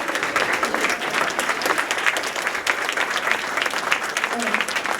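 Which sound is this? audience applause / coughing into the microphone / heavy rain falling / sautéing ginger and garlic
audience applause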